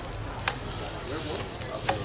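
Grain such as buckwheat, barley, millet or rice toasts in a pan with a steady close sizzle and crackle, broken by two brief sharp clicks.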